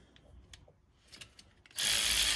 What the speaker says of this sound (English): If you get it moved that far and it's still stuck, spin it with your ratchet.